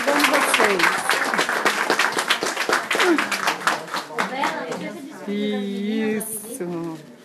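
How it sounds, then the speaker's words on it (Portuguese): An audience of nuns claps during a tribute to Sister Bernadete, with a burst of applause at first and then someone speaking close by over fading claps and chatter. "Vai, uma salva de palmas, né, irmãs?"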